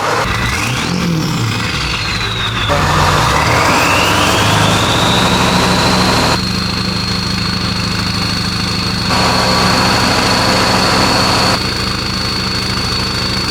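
A loud, steady diesel pickup idle from a modified 7.3 Powerstroke engine, with a deep low rumble and a whining high tone, continuous and close throughout.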